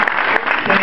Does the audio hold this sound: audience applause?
yes